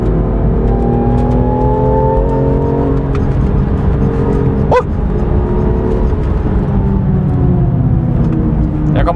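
A BMW M2 Competition driven off-road growls with a loud, steady engine note, joined by a brief sharp knock midway and some faint talk beneath.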